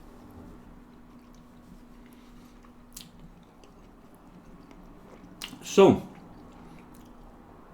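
Close mouth sounds of someone chewing food, a soft wet squish and crunch near the end, with a brief spoken word and a low steady hum behind.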